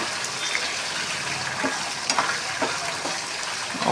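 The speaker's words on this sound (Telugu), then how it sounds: "పచ్చిమిరపకాయలు బాగా వేగనివ్వాలి" Green chillies frying in hot oil for mango pulihora, a steady dense sizzle with crackling spits and pops, close and continuous, no voices.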